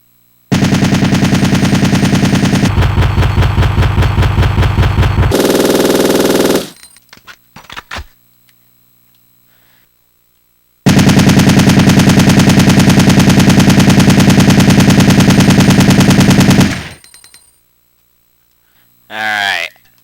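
An automatic weapon in Resident Evil 3: Nemesis fires in two long, loud, steady bursts of rapid shots, each several seconds, separated by mechanical clicks and silence, ending with a short metallic reload sound.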